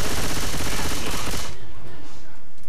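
Dense, rapid machine gun fire in a Minecraft versus Left 4 Dead 2 game mod, loud and continuous for about half the time before easing into a quieter rattling tail.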